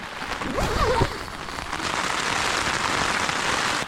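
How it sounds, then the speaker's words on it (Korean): Steady, dense rain falls on a tent campsite on the remote Korean island of Gulupdo, a close, even hiss that runs unbroken throughout, with a brief murmur of a voice near the start. "비 너무 많이 온다"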